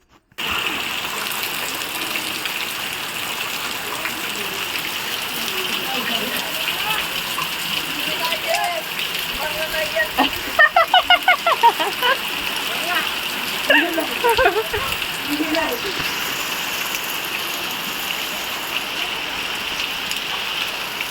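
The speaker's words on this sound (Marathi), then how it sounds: "जबरदस्त पाऊस बघा ना कसलं रानात पाणी भरलेलं आहे" Heavy rain pours steadily over water-filled fields in a dense, unbroken roar, while a few voices speak briefly partway through.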